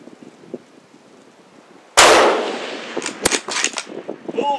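A single sharp, loud shot from a 7mm PRC rifle with a 20-inch barrel, fired at a long-range target, followed by a brief fading echo and then nearby voices.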